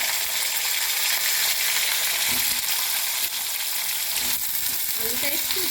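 Potatoes and mixed vegetables, including drumstick flowers, fry with dry chilli in a pan, giving a steady, loud, close sizzle throughout, with a few brief scraping stirs near the end.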